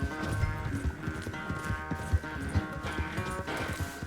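Horse galloping in the video game Red Dead Redemption 2: a steady run of rhythmic hoofbeats, close and fairly loud, under continuous game music.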